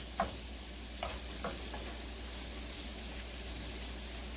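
Southern country gravy bubbling in a pan as it is stirred, a steady quiet sizzling hiss with a few light spoon clicks early on and no talking.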